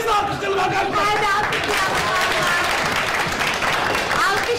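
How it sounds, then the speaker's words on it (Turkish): Galatasaray supporters in the stadium stands applaud their footballers, a dense sustained wash of clapping and crowd noise with chanting voices rising through it. "Tribündeki Galatasaraylı taraftarlar futbolcuları alkışlıyorlar"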